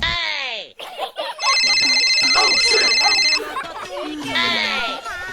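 A phone ringtone plays a steady electronic tone for a couple of seconds while someone talks over it nearby.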